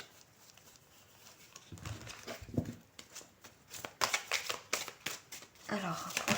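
Tarot cards are shuffled and handled in a series of soft, rapid riffling and tapping bursts, close but quiet, under someone speaking French.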